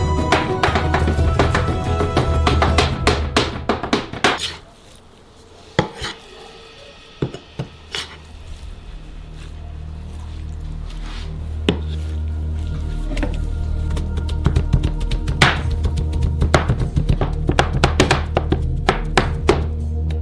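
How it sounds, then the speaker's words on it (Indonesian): Two axes hack raw sturgeon meat into mince, a dense run of sharp, loud chopping blows with a brief lull partway through, then steady rapid strikes resuming. "Dengan menggunakan 2 kapak, buatlah daging cincang ini."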